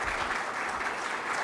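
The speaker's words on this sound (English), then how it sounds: "You got quite an enthusiastic round of applause there." Enthusiastic audience applause after a business talk on data and transformation, a dense, steady wash of clapping filling the whole stretch with no voices over it.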